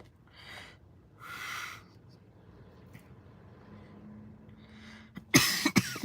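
A woman gives two breathy coughs near the start, then after a quiet stretch one more harsh, sharp cough and throat noise near the end, close to the microphone, with a little speech in between.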